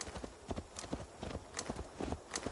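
Iron-shod horse hooves clip-clop in a steady walking rhythm, close and distinct, with roughly a dozen sharp strikes in the Viking-era game Valhalla.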